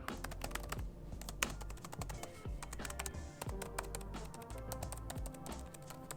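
Steady, rapid typing on the keyboard of a Xiaomi Mi Notebook Ultra 2021 laptop, with dense clicky keystrokes heard close up over a low background hum and no talking.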